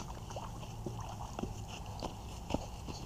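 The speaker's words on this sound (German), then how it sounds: "Ich muss nur die Aktion filmen, wie Achim das Boot aus dem Wasser holt." Small boat being hauled out of the water, faint irregular knocks and watery bumps over a steady outdoor hum, with no talking.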